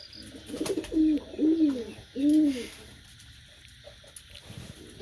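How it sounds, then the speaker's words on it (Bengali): Pet Mookee pigeons with springy, trembling heads coo up close: three rounded, throaty coos in quick succession, followed by a quieter stretch with faint rustling. "এই জোড়াটাও আমি নতুন দিয়েছি, এটাও মুখী কবুতর।"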